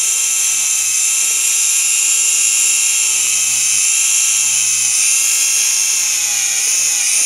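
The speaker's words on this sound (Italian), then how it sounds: "La velocità della fresa, io ho la marathon proprio alla prima tacca" High, steady whine of a Marathon electric nail drill running at its lowest speed setting while filing natural nails, close and loud for the whole stretch, with faint low hums rising and falling beneath it.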